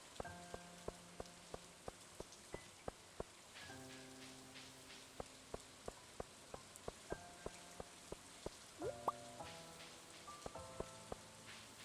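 Steady rain patters on a surface during fishing in a video game, heard alone beneath regular plucked musical notes and soft chimes.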